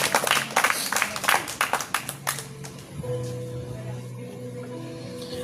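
Church congregation applauding the Lord at a Wednesday prayer service, a dense burst of clapping for about two seconds that quickly fades into quiet room tone with a faint sustained tone.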